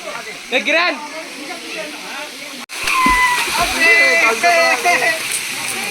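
A waterfall at Aluru Kona Ranganayaka Swamy splashes as people jump in, a constant rushing hiss with sharper splashes, while voices shout and chatter nearby throughout.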